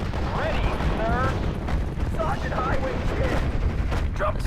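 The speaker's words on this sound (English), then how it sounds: "Start tossing some mortars around and whatnot." Mortar fire in Steel Division: Normandy 44 thuds and crackles as a continuous battlefield rumble of distant explosions and gunfire, while shrill whistling and chattering battle sounds cut across it.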